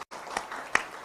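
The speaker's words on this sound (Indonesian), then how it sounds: "sekali lagi tepuk tangan." Faint, distant applause from a crowd at a university dhikr and sholawat gathering, a continuous soft wash of clapping after a brief silence.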